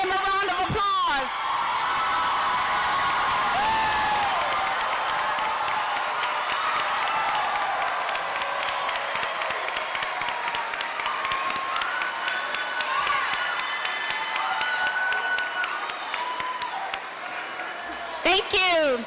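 A large crowd at a 2014 college commencement applauds and cheers for the graduates, with steady sustained clapping mixed with whoops and shouts. The applause stays loud and dense throughout and fades slightly toward the end.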